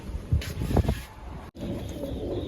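Pigeons coo softly nearby as they gather at scattered grain outdoors, a few low murmuring calls over a steady background hum.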